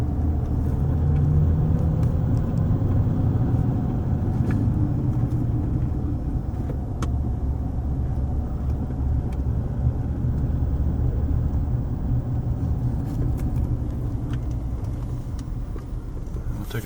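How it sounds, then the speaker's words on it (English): A car drives down Washington Street in Aliquippa, Pennsylvania, its steady engine and road rumble continuous and close throughout, with no voices. "Take a drive down. Washington Street."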